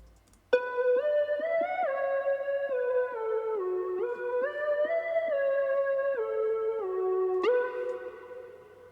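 A bright synthesizer lead preset, Tropical, in FL Studio plays a smooth melodic line of sustained notes, gliding up and down with a shimmering, slightly chorused tone and a soft reverb tail.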